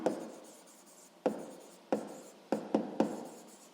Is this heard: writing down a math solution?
yes